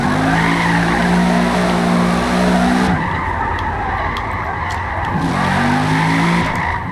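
A 2018 TVR Griffith drifts in Forza Motorsport, its tires squealing loudly over a droning engine, the screech holding steady, dropping into rough scrubbing for a few seconds, then rising again alongside the engine note.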